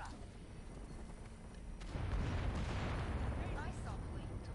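An enemy blows up in Killing Floor 2 with a sudden loud burst of explosion noise over a steady game background rumble.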